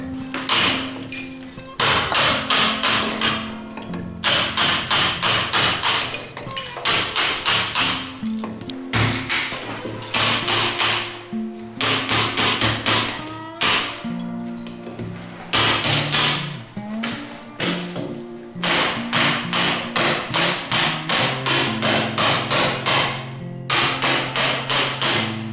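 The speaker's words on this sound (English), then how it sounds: "there have been numerous occasions when pieces of brick would bounce back from me hammering" Repeated sharp hammer blows on brick during work on a brick dividing wall, clustered bursts of ringing metallic strikes with brief pauses between groups, close and loud.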